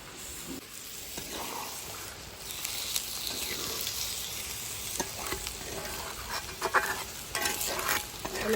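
Water is poured into country chicken curry frying in a pot, keeping up a loud, hissing sizzle throughout with scattered stirring knocks, and the bubbling swells toward the end.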